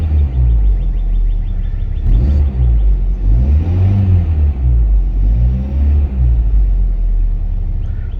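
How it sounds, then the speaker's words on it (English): A 2024 Acura Integra Type S with a TSP downpipe, PRL front pipe and turbo blanket, engine still cold, rumbles close by with deep exhaust swells rising and falling through several revs, no talking. "there's definitely a different obvious difference in the exhaust note"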